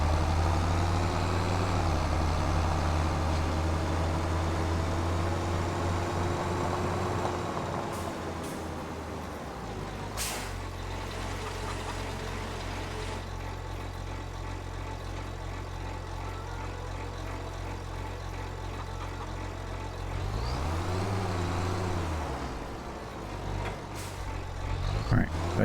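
A tractor engine in the video game Farming Simulator 25 drones steadily at a low idle and rumbles, rising and dipping as it revs, with brief clunks and a heavier surge near the end.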